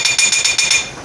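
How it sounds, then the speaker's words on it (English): A pneumatic planishing hammer strikes sheet metal in a rapid, even series of sharp, bright metallic hits, loud and close with no talking. "It's called a planishing hammer."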